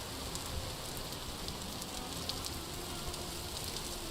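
Steady rain falls in the game Vintage Story, an even, continuous patter and hiss that stays at a constant low level with no voices.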